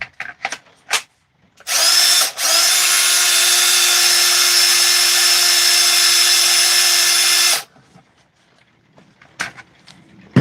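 A cordless drill on a Milwaukee M18 battery whirs steadily at high speed for several seconds after a brief start-stop, loud and close, with faint handling noises before and after.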